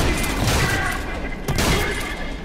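Frantic gunfire in the first-person shooter Trepang2, a dense, loud burst of rapid shots and booming impacts that keeps going without pause, with a player's voice talking over it.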